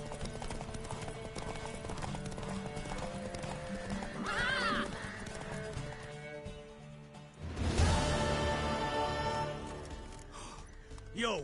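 A horse in the Witcher 3: Wild Hunt video game gallops with rapid clip-clop hoofbeats and lets out loud whinnying neighs, heard alongside game music and a brief voiced exclamation.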